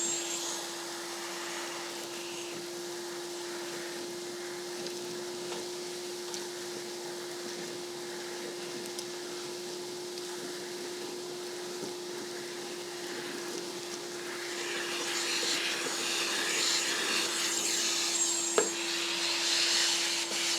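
A TUFVAC 30 dust extractor draws sawdust out of a small bucket, a steady whining suction drone with a constant tone that grows louder and rougher toward the end as the dust rushes through, with no talking.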